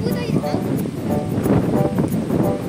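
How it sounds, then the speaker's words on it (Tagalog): Steady wind buffets the microphone with a low rumbling roar in Puerto Princesa, Palawan, and a person talks throughout over the gusts. "Pero sobrang hangin dito, grabe."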